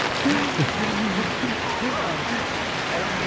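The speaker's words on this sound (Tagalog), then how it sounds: "Pero lakas ng ulan, no?" Heavy rain pours steadily in a dense, constant hiss, with faint voices murmuring underneath.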